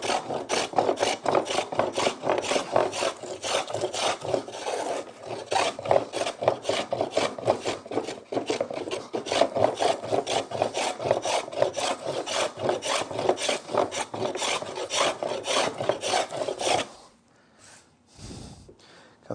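A hand plane takes thick shavings off a wooden chopping board in long, steady rasping strokes, close and loud, repeating rhythmically before stopping near the end.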